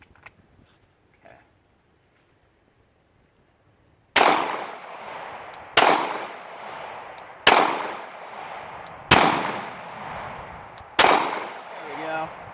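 CZ 75 SP-01 Tactical pistol firing at steel targets at close range: five loud, sharp shots spaced roughly evenly about a second and a half apart, each with a metallic ring and decay, after a few seconds of near silence.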